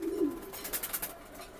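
A racing pigeon gives one soft, low coo close by, followed by faint rustling and fluttering, quiet overall.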